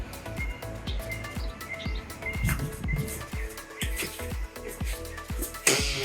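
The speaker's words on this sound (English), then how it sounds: "And of course, the birds, which is like the best thing to hear in the morning." Birds chirp and call outside a home in Destin, Florida, a steady mix of bird calls with repeated low thumps, likely nearby construction, running throughout and rising briefly near the end.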